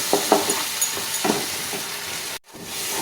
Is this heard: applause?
no